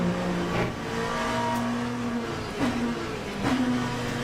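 LMP2 race car engine in a VR sim racing game on a wet track, holding a constant loud drone with rising pitch and brief dips at each gear shift.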